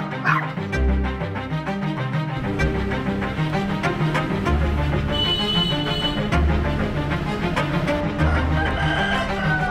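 Caged roosters crowing among a noisy cluster of animals in Vietnam, with dogs barking and yipping throughout, close and loud.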